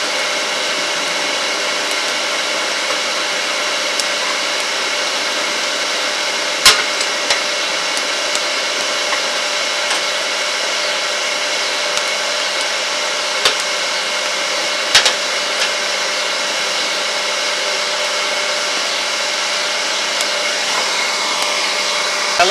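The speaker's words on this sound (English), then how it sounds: "Then we'll start the grinding process probably." A grinding tool running in a workshop, a steady continuous whine held for over twenty seconds with a few sharp clicks or knocks.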